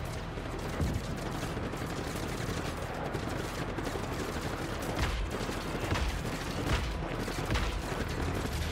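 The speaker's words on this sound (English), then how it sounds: "Who is shooting?" Heavy, sustained gunfire from Just Cause 3 combat against insurgents with heavy armor, loud and dense bursts running throughout with rapid automatic fire and occasional sharper reports, no voices.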